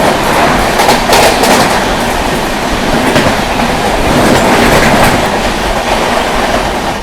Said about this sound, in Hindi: बैंगलोर राजधानी एक्सप्रेस